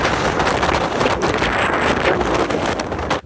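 Strong wind on a bare rock mountain top, steady roaring gusts buffeting the microphone at close range for several seconds with no talk.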